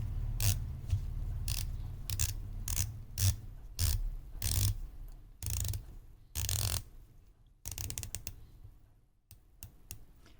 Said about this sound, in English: The bezel play is clicky but solid.